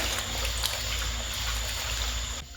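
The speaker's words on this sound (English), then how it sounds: "I'm straining the dye through the world's tiniest strainer and the world's flimsiest strainer setup" A steady trickle of madder root and logwood dye pouring through a tiny, flimsy strainer into a bucket, a continuous close liquid splashing that cuts off near the end.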